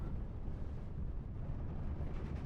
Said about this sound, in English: Seems an 81mm mortar is coming in a weird angle in a real weird direction here.